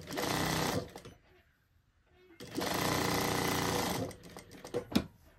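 An overlocker sewing machine stitches down trouser seams in two fast, steady whirring bursts close up, a short pause between them and a few clicks and handling noises at the end.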